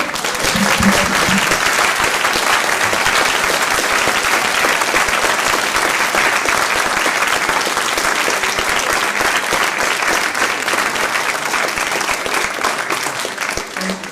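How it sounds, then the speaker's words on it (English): Sustained, loud applause from a large audience at a piano recital, a dense steady clatter of clapping that continues throughout without letting up. "I think we ought to do more applause for Murray, who's over there by the door."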